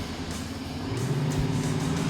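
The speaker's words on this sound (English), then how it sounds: "A sound generator adds some oomph to the diesel engine." An Audi Q5 Sportback's diesel engine, boosted by a sound generator, hums and rumbles from inside the car, a steady low drone that swells slightly as it builds.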